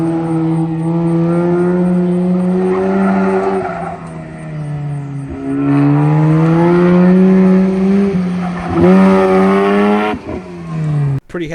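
A Mazda RX7 on an autocross run, its engine loud and close, revving up and down through gears with rising and falling pitch sweeps, brief lifts between shifts and a sharp drop at the end.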